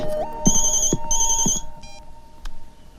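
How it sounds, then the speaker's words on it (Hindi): A telephone rings in a film scene, two long electronic trilling bursts followed by a shorter chirp and a faint tone, fairly close and clear with no speech over it. "माया का फोन है।"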